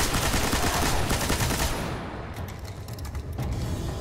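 Dense, rapid gunfire from Destiny rattles loud and close for about two seconds, then thins into scattered bursts and mechanical clatter that fade slightly toward the end.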